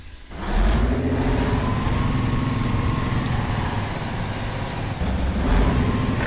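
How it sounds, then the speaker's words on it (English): A truck engine in the Spintires off-road game cranks into life, then holds a steady, loud, rumbling idle-to-rev drone for several seconds with a slight swell near the end; no talk over it. "Starting engine."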